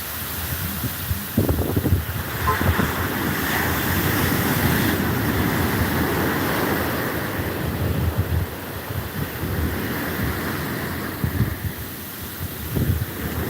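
Steady wash of ocean surf on a beach with gusty wind buffeting the microphone, continuous and fairly loud throughout, with occasional low rumbles from passing waves and no talking.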